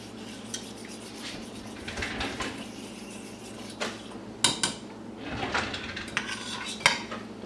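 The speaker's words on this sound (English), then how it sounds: "I'm using the whisk." Whisk stirring a homemade cream soup in a pot, scraping and clinking irregularly against the metal, with sharper knocks and rattles of the whisk striking the pot's sides among softer swishing.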